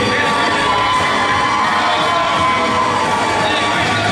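A crowd at a lightsaber championship wrestling-style event cheers and shouts continuously, a dense, loud wall of voices with whoops throughout.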